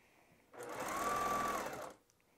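A sewing machine top-stitches along a finished, double-folded fabric edge, making a single close whirring run of about one and a half seconds that rises quickly, holds steady and then stops.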